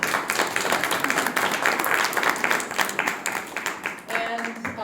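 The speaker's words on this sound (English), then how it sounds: "Can we have some applause for that?" Loud, dense audience applause for panelists at a public forum, a continuous roar of clapping that tapers slightly toward the end, with a voice emerging briefly near the close.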